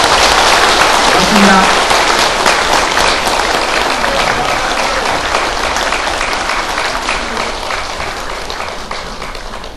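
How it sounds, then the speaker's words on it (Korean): Loud, dense applause from an audience as lawmakers leave a briefing session on compensation for Pacific War victims, starting strong and gradually fading, with a brief thank-you spoken near the start. "정말 뜨겁고 힘찬 박수, 따뜻한 박수를 보내주시길 부탁드리겠습니다"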